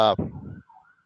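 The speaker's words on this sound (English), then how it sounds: "I got an the, ambulance passing by." An ambulance siren wails briefly in the distance, a short rising tone that cuts off quickly, followed by faint trailing sound in otherwise quiet surroundings.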